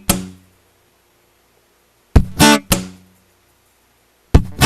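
Acoustic guitar strums alternate with a muted percussive slap on the strings imitating a snare, a few sharp hits spaced apart with silence between, close and moderately loud.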